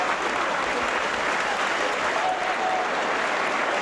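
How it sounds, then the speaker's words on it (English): Crowd applause ripples around the ground at a 1986 Halifax versus Warrington rugby league match, a steady, even wash of clapping heard alone without commentary. "Is the applause still ring round for Grant Ricks, the Australian centre"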